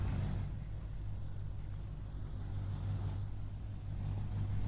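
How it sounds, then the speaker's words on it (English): A car engine runs with a steady low rumble and a faint rising tone, suggesting gentle acceleration as it pulls out of a showroom; the sound holds at an even level throughout. "The vehicle kicks into life flawlessly. You depress the accelerator and make your way out of the showroom."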